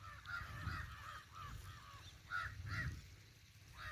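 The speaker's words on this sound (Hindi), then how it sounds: "कौवे काँव काँव कर रहे हैं, देख रहे हैं कौवे की आवाज आ रही है आप लोग को" Crows caw in short repeated calls at a distance, quiet and scattered over a soft outdoor background hum on a farm.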